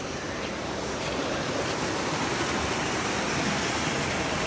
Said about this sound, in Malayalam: മലയിൽ നിന്നും ഒഴുകി വരുന്ന ഒരു ചെറിയൊരു പുഴ